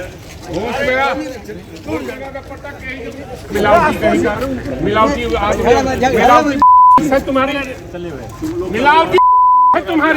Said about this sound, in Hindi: हमने उसको बीप किया है